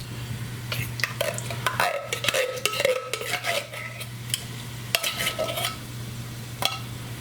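Soup tipped into a pot and stirred, a steady close sloshing and scraping churn over a constant low hum, with a few sharper knocks of the spoon against the pot.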